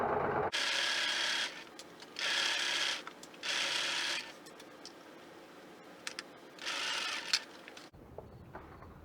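Sewing machine stitching fabric for a patchwork cross stitch clutch, running in four short bursts of steady whirring with pauses of faint fabric handling between, fairly quiet and close.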